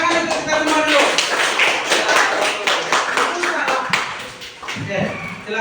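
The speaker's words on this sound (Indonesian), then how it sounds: "Kita tepuk tangan untuk kita semua dulu." A group claps hands together in a dense, steady burst of applause that goes on for several seconds, with voices mixed in.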